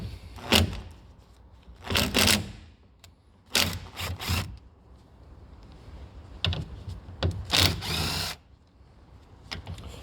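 Ratchet or small power driver undoing 8mm bolts on a Honda Civic door wing mirror, several short bursts of whirring and clicking separated by quiet pauses, close up.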